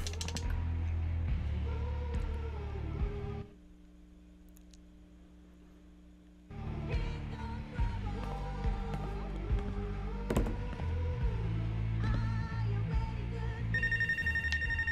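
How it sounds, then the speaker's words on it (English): A telephone rings in the video game Life Is Strange, electronic ring tones sounding over game background audio, with a quiet gap partway through and a higher tone near the end. "Oh, there's a phone. There's a phone."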